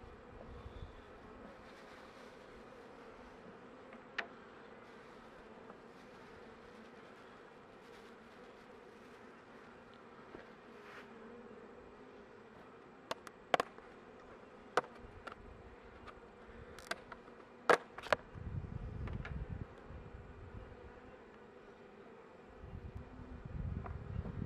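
Honey bees buzzing around a hive during a colony rescue, a soft continuous drone with scattered louder passes near the microphone and some handling knocks and rustles toward the end.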